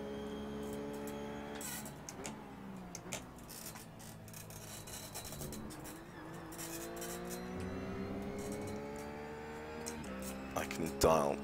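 A GT3 race car engine in the iRacing simulator at Donington drones steadily, its pitch climbing through gears and dropping on shifts, with someone talking over it.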